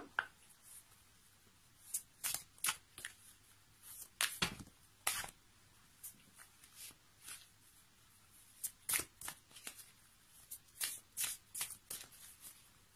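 Tarot cards being shuffled by hand: close, quiet, repeated riffling and slapping bursts in an uneven rhythm, with brief pauses between them and no voices.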